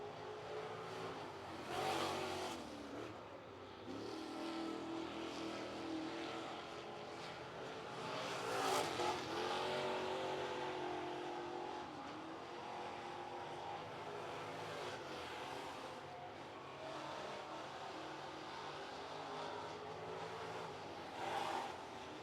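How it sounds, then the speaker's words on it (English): Race cars lap Cherokee Speedway during Renegade Sportsman qualifying, their engine roar fairly faint and distant, swelling and fading as they pass, with no talking. "Up next onto the racetrack, final trio, Timmy Smith"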